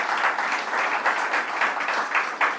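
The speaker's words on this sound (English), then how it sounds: "please give them a round of applause" Steady, loud applause fills a room at a bank branch commissioning ceremony, with many hands clapping continuously, close and enveloping, and no talk over it.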